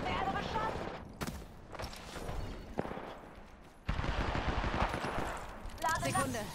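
Video game gunfire aimed at the player, heard as rapid machine-gun bursts and scattered shots mixed with game noise, with a voice talking over the shooting.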